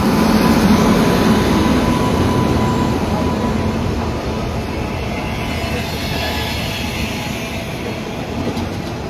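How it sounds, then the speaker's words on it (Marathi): An Indian Railways train at Murud railway station gives a loud, steady rumble of wheels and carriages that fills the whole stretch and eases off only slightly toward the end. "भारतीय रेल"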